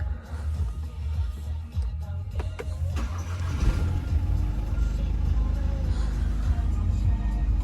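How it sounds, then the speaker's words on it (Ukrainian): A Skoda Octavia TDI diesel engine, cold, cranks briefly on push-button start then catches and settles into a low, steady idle rumble, recorded from inside the car. "Запустимо його, до речі, автомобіль запускається у нас із кнопочки."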